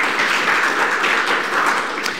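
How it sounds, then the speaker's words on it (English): Audience at a security conference talk clapping for the presenter, a dense, steady burst of many hands filling the room, loud and close with no talking over it. "Give him a clap."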